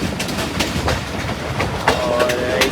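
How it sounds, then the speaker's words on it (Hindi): Mianwali Express train arriving at Sargodha junction, with close, loud rhythmic clickety-clack of wheels over rail joints and a brief squeal of wheels near the end. "और 148 on Mianwali express Sargodha junction पर पहुंच चुकी है।"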